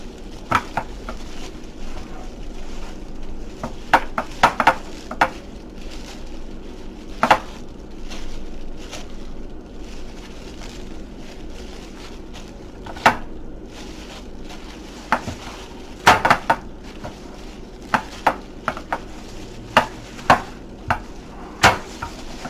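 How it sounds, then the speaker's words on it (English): Keto cornbread dressing ingredients being mixed in a bowl: scattered light clicks and taps of a utensil against the bowl over a soft, wet stirring background, close and moderately quiet, with no talking. "So I'm going to mix all this up really good"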